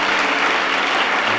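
Church congregation applauding to acclaim the Lord, a dense, steady wash of clapping from many hands filling a large room, loud and unbroken.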